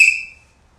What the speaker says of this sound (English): That whistle effect.